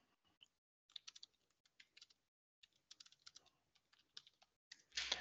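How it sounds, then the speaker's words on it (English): Someone typing a message on a computer keyboard: irregular bursts of close, light key clicks with short pauses, ending in a louder clatter. "Can't type and talk at the same time."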